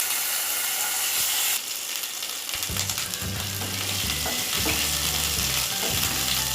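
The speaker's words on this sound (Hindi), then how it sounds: "अब इसमें लहसुन और अदरक का पेस्ट शामिल कर देंगे।" Garlic and ginger paste dropped into hot oil, a sudden loud, bright sizzle that keeps hissing and crackling close up, with stirring sounds underneath.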